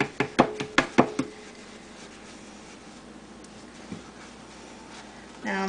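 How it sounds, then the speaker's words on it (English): Spoon knocking brownie mix off into a cup: six sharp, close taps in quick rhythm over about a second, then near-quiet with a faint knock later. "Now I'm just taking the brownie mix off of the spoon to make sure you get the maximum amount possible."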